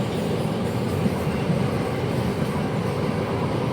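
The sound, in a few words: train at a railway station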